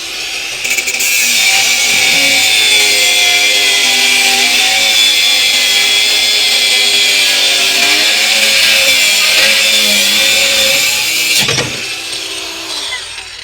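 Slim cordless angle grinder with anti-kickback, an APR AP22PRO, spinning at speed setting 3 with a loud, steady high whine held close for nearly the whole stretch before a short knock and slight easing near the end.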